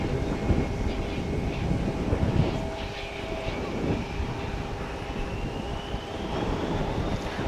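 An airliner departing at DFW airport roars as a steady, broad jet rumble that rises slightly and holds across the span, heard from a distance with wind noise on the microphone; faint voices in the background.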